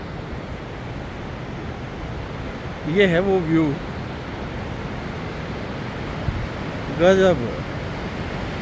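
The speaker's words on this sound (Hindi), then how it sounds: "इतना शोर है ना इसका पानी का" A loud mountain river rushes below a roadside viewpoint in Himachal Pradesh, its broadband roar steady throughout, with someone speaking briefly over it twice.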